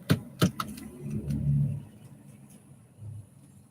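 A car in a parking area pulls away, its engine rising to a moderate revving swell and then fading, with a few knocks and clunks just before it leaves.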